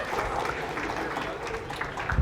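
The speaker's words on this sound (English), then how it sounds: "Round of applause for Charlie." An audience applauds speaker Charlie with steady, moderately loud clapping that fills the room for a couple of seconds, with a faint murmur of voices underneath.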